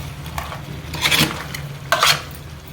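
A spoon scrapes and clinks against a pot while stirring crab curry, two brighter scraping strokes standing out over a low steady kitchen hum.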